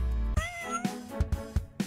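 A cat in the video game Turbo Pug lets out a loud, drawn-out meow, followed by several short, punchy game sound effects.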